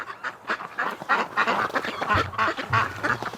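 A flock of ducks quacking in a steady overlapping chatter near a barn in winter, with a few louder honking calls standing out near the end.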